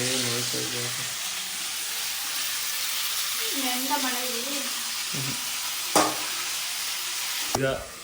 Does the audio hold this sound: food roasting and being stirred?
yes